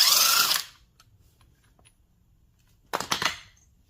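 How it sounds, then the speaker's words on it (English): A power tool loosens a nut on a Ducati 748 clutch in two short bursts, a loud whirring burst at the start and another after a quiet pause, close by. "I'm slacking this nut off,"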